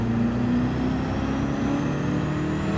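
A car engine in the video game Gran Turismo 7 hums at low revs while gears are shifted quickly, a steady mid-pitched drone with slight pitch steps, loud and without talk.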